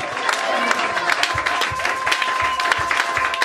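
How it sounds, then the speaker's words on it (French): A church congregation applauds and cheers during a French-language worship service, dense steady clapping with scattered shouts throughout, plus a sustained tone running underneath. "Est-ce qu'on peut un peu acclamer?"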